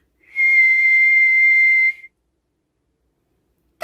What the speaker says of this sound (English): Then she heard his special whistle.